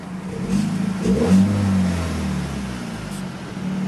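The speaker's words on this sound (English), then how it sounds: "this vehicle actually has a very nice sound to it when you start it up" A 2014 Hyundai Genesis Coupe 2.0T R-spec engine turns over and catches, revving up briefly before settling into a steady idle hum, close by.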